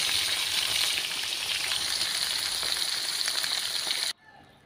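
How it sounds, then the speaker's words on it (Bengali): Pieces of hilsa fish frying in hot oil in a pan, a loud, dense, continuous sizzle that crackles evenly and then cuts off abruptly near the end. "মাছগুলি ভেজে নিচ্ছি।"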